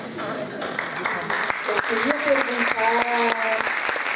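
An audience claps at a sarau poetry-and-music evening, a sustained round of applause from a gathered crowd while someone speaks over it.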